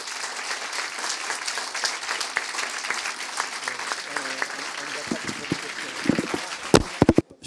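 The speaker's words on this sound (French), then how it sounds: "les applaudissements que vous avez produits pour Cyril" A conference audience marking an association's tenth anniversary applauds, a dense sustained roar of clapping that thins out near the end into a few scattered claps and voices.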